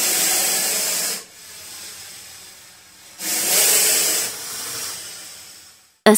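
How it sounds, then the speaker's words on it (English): A snake hisses in long, steady breathy bursts, one loud stretch then a quieter one, another loud hiss and a softer tail, ending abruptly with a short burst. "Snake."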